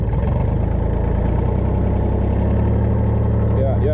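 A tractor engine runs loud and close at a steady, throbbing idle with the PTO engaged, with a low mechanical drone and a slight rise toward the end.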